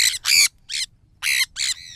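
Sun conure parrots squawk while flying free outdoors, loud shrill harsh calls repeated in five or six short bursts with brief gaps between them and no talking.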